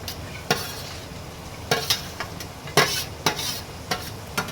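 Spoon stirring chanagalluu frying with browned onions in a pan, repeated scraping strokes over a steady sizzle, close and clear with no talking.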